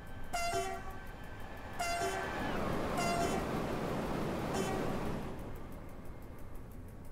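A train horn from a French train running in Germany is tested in four short, sharp blasts spaced over several seconds, loud and near, above a continuous rumbling of the moving train.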